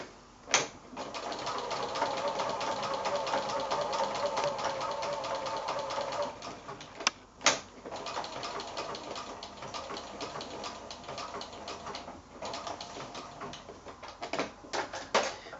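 A sewing machine stitching fabric applique runs in a steady close-up whir for long stretches, pausing briefly with a few clicks before starting again, and no one speaks.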